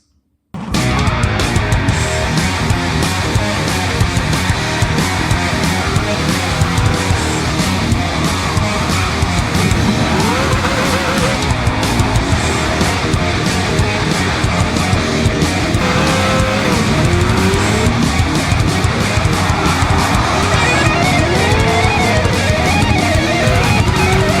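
A Lamborghini Countach Group C QVX race car driving, its engine a continuous loud roar with shifting pitch throughout, close and unbroken after a brief silent start.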